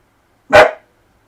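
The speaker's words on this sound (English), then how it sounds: "I gotta get this dog out or he'll bark all day" A single short, loud dog bark close by, alone in an otherwise silent room.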